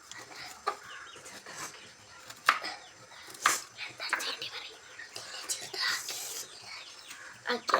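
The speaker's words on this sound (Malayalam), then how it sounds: "എന്നിട്ട് നമ്മൾ വെളുത്തുള്ളി ഒന്ന് ചെറുതാക്കി അരിയണം" A knife chops garlic into small pieces, making a run of irregular sharp taps near at hand, while chickens cluck in the background and a person talks.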